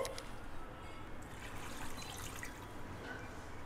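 Water poured into a pressure cooker holding 750 grams of mutton, a steady close trickle and splash that runs continuously throughout with no talking.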